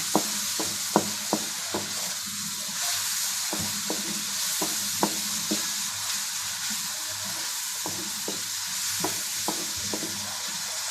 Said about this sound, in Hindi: यहाँ आप देख सकते हैं कि करेले बड़े अच्छे तरीके से फ्राई हो रहे हैं